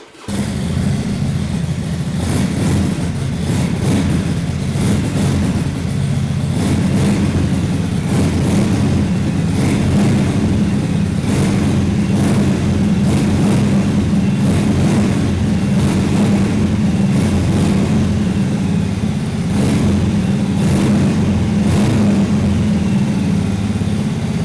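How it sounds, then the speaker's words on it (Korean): A 2019 Harley-Davidson 883 SuperLow with a tuned muffler rumbles at idle with a deep, loud, steady exhaust pulse, sounding close and alone without talk. "튜닝 머플러의 배기 사운드 한번 들어보고요."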